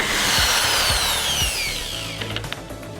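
Power drill driving screws into the wood of a small quarter pipe ramp: several short whirring bursts in a steady rhythm, close and loud, with no talk.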